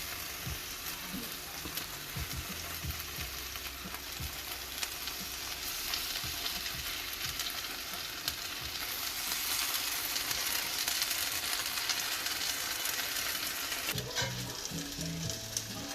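Beef and mushrooms fry in a hot pan for beef and broccoli, a steady close sizzle that swells louder partway through, with occasional faint stirring scrapes and no talking.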